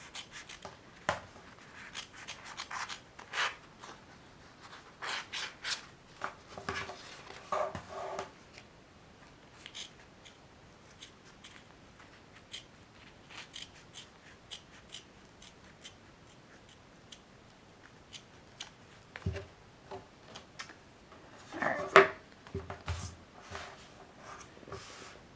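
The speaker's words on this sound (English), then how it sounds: "sometimes I'll have to take a seam ripper to the stitches" A seam ripper snips through embroidery stitches on plush fabric in short, close, dry clicks and scratchy tugs, coming in scattered clusters with quiet pauses between.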